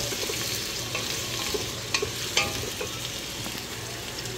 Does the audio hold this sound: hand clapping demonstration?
no